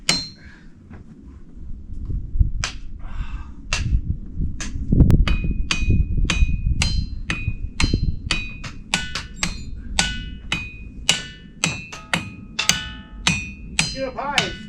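Hammer striking the ringing rocks of Montana, a boulder field, producing a run of sharp metallic pings with bright bell-like tones, irregular and quickening, over wind and low rumble outdoors.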